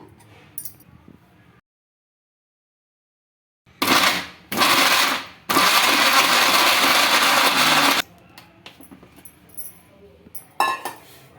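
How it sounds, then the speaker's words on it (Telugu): A kitchen mixer grinder grinds chicken into keema in loud bursts: a short whir, a second burst, then a longer sustained grind, separated by pauses with faint clinks and rattles of the jar. "ఇంకా ఇదైతే మిక్సీకి అయితే వేసుకుందాము"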